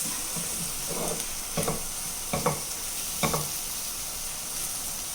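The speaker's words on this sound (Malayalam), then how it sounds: "ഇനി നല്ലപോലെ ഇളക്കിയിട്ട് ഈ പൊടികളുടെയൊക്കെ പച്ച മണം മാറുന്നവരെ വാട്ടിയെടുക്കാം" Spice powders being stirred and sautéed in a pan for kappa chicken biryani: a quiet steady sizzle broken by four or five distinct scraping stirs, close and without any voices.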